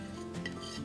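Flour and softened butter being mixed in a big pan, a short soft scraping and stirring with a light clink of utensil against the pan, close and quiet, with no voices.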